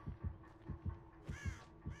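Crows caw in the horror video game Dead by Daylight, with a harsh call rising near the end. Faint, low heartbeat thumps pulse steadily underneath in a double-beat rhythm.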